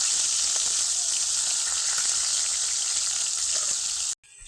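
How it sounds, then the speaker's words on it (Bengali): Loud, dense sizzle of four koi fish frying in oil, steady for about four seconds before cutting off abruptly. "চারটা চারটা করেই ভাজবো প্রথমে চারটা দিয়েছি আর চারটা আছে চারটা করেই ভাজবো"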